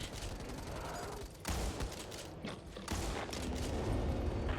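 Gunfire in Back 4 Blood during a Nightmare-difficulty fight against a Crusher, with sustained rapid shooting and mechanical clatter in dense, loud bursts that break off briefly and resume.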